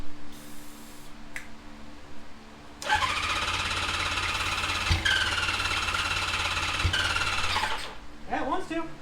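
A 1977 Suzuki GS550E motorcycle that had sat for two years cranks and fires into a loud, rough idle for about five seconds, then dies back to quiet, with people talking around it.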